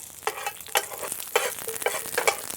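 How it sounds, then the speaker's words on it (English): Steak sizzles steadily in butter in a hot skillet, with bursts of louder crackling as it is stirred and pushed around with tongs. "We should hear a nice sizzle."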